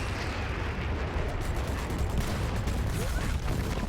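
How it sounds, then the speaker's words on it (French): A continuous rumbling roar of explosion and battle noise from the video game Dirty Bomb, steady and fairly loud throughout with scattered crackling bursts. "Mais c'est l'explosion de ce truc pourri là qui m'a déglingué."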